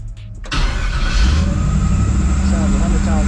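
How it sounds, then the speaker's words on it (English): A 1964 Chevy with a 4L80E transmission cranks and fires up, catching abruptly and settling into a loud, steady idle rumble close by, with a voice briefly audible over it. "let me go ahead and start this thing up again."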